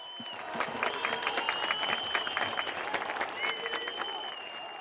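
A crowd at a Kemal Kılıçdaroğlu political gathering claps steadily in a rolling wave, with high sustained whistles over the applause and scattered voices mixed in.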